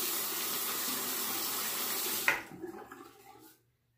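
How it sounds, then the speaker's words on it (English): A razor rinsed under a running bathroom tap while shaving: steady close water flow for a couple of seconds, then a clack and splashing drips as the tap is shut off and the water fades to silence. "Let me rinse the razor and just go over my face one more time."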